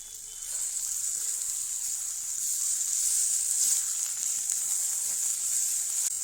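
Ash gourd peel paste stir-fried with onion, garlic and green chili in a hot pan, a steady bright sizzle that holds evenly throughout with faint stirring underneath.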